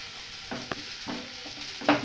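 Potatoes tossed with ground turmeric get stirred in a frying pan, with a few distinct scrapes of the spatula against a soft, steady sizzle.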